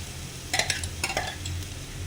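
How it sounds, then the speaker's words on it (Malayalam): Masala and spice powders roast in oil with popped mustard and fenugreek seeds for rasam, a low sizzle under a few quick scraping stirs of a spoon in the pan. "കടുക് ഉലുവൊക്കെ പൊട്ടി വന്നു. അപ്പോൾ നമ്മൾ ഈ മസാലപ്പൊക്കെ അതിലേക്ക് ഇട്ട് കൊടുത്തു."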